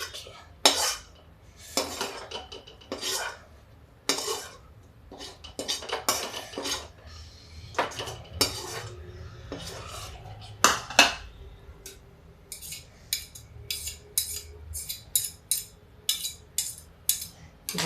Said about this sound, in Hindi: और एक कटोरी ये हम सब्जी निकाल लेते हैं खाने के लिए।